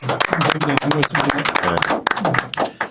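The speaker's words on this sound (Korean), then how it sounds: "박수로 맞아주시기 바랍니다" Studio audience applause greeting a guest on a Korean political talk show: a steady patter of many hands clapping, fairly close, running under a voice talking.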